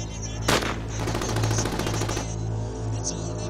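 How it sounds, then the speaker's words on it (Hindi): AK-47 style rifles fire a rapid automatic burst lasting about a second, loud and close, after a single sharp shot, followed by fainter lingering noise. "AK-47 mini James bond gun, mini क्लाशन"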